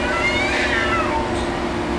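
Cats fighting and caterwauling outdoors, with drawn-out rising and falling yowls carried over a steady roar of background noise throughout.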